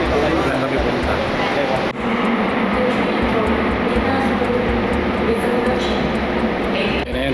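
A train in Korea rumbles steadily and loudly throughout, a dense continuous roar with faint rail clicks and no break.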